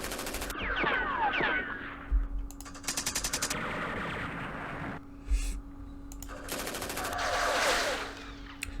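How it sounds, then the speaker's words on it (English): Bursts of machine gun fire ring out in the wargame Campaign Series Vietnam during the 1968 Battle of Tan An. Several rapid rattling volleys are separated by softer game effects and a low background hum. "Let's use our machine gun."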